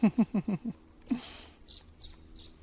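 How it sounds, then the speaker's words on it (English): A small bird sings in a wetland, giving a quick run of four or five chirps and then a few higher, thin notes, faint against a quiet background. "Love how hearing this sweet a bird song feels so familiar"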